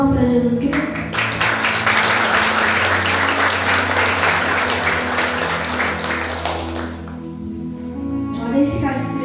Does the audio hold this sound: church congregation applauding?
yes